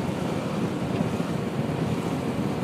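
Steady, loud wind roar buffeting a microphone on a Yamaha Nmax 155 scooter fitted with a touring windshield at highway speed, a continuous broadband rush with no gaps.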